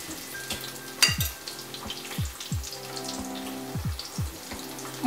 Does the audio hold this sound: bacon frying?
yes